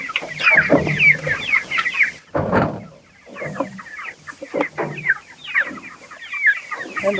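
Chickens cluck and chatter in steady overlapping bursts on a pasture farm, with a short louder rustle or thump partway through and the hens resuming close by.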